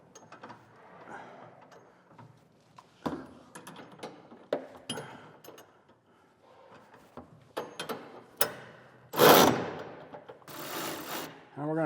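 A wrench loosens a U-bolt on an underbed gooseneck hitch in a 2024 truck, giving scattered metallic clicks and ratcheting bursts, with a few louder scraping rasps near the end.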